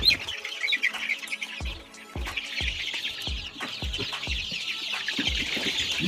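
Four-week-old Highland Brown layer chicks in a brooder on a farm make a busy chorus of high peeping chirps, with occasional soft knocks and clucks from the flock nearby.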